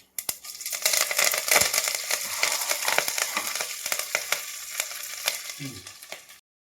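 Curry leaves crackle and spit in hot oil for an ivy gourd stir-fry, a loud, dense sizzle with sharp popping bursts throughout and a low thump near the end, no talking.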